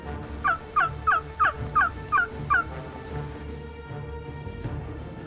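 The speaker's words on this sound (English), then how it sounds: "We had heard some gobbles" A wild turkey gobbles in a rapid series of about seven sharp, rattling calls at moderate distance, then fades into quiet outdoor ambience.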